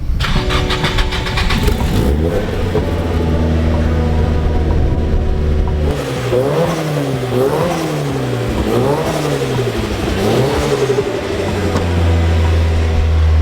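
A Nissan S15 is cold-started: a starter crank is followed by the engine catching and revving up and down in rising and falling sweeps, then settling into a steady idle. It is close and loud, with no talk.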